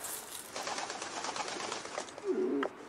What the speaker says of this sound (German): Eine weiße Taube, was das wohl zu bedeuten hat.